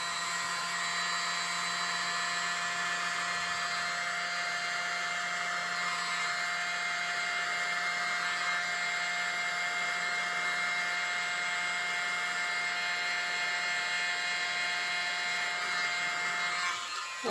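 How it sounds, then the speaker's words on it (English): A tiny handheld mini blower drives air over an acrylic paint pour prepared with black cell activator. It gives a continuous high-pitched electric whine and whoosh at a steady level, running nearly nonstop up close until it cuts off at the very end. "Use my mini blower."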